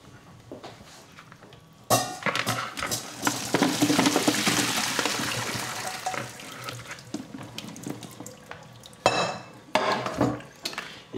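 Blanched Brussels sprouts being rinsed in a kitchen, with a stream of water running and splashing steadily for several seconds between clattering sounds of a pot or colander being handled.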